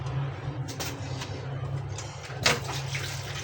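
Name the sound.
water being added to the cooking pot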